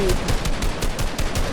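Gunfire in the Fortnite video game, with a pump shotgun named: a loud, close burst of rapid, evenly spaced shot blasts that continues through the whole moment.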